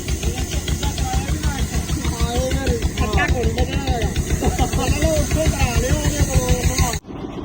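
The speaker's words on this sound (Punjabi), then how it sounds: "ਆਰੇ ਵਾਲੇ ਕਹਿੰਦਾ ਥੋੜੀ ਰੇਸ ਦੇ ਦੇ ਇਹਨੂੰ, ਫੱਟੇ ਹੈਗੇ ਥੋੜੇ ਗਿੱਲੇ ਤੇ ਥੋੜਾ ਜ਼ੋਰ ਲੱਗਦਾ ਨਾ" A sawmill saw cutting wet wooden planks drones as a loud, steady engine throb with hissing noise, while people talk over it throughout.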